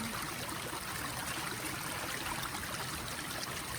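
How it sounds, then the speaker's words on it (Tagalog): Steady running water from a tap while white onion is being washed, a continuous close rushing stream with no pauses. "I'm washing white onion."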